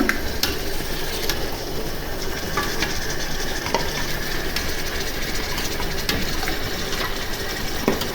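Washed raw mutton goes into a pot for Nellore-style dum biryani and is stirred, giving a steady loud sizzling, scraping wash of sound throughout with faint clinks, close up and without speech.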